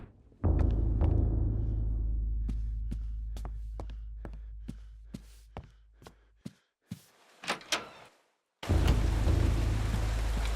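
Video game rain from Eternal Darkness hisses as a steady wash, with deep rumbling thunder and a series of sharp cracks and thuds, then the heavy rain returns loudly at the end.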